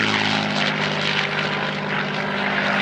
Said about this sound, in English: she's the only flying Mark 11 Spitfire in the world